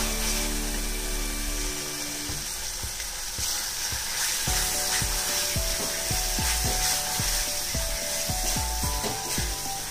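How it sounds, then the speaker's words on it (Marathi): Masala for rajma frying in oil in a pan, a close, continuous sizzle with rhythmic scraping and clacking stirs that grow regular partway through. "परत हा मसाला आपल्याला तेल सुटेपर्यंत भाजायचा आहे"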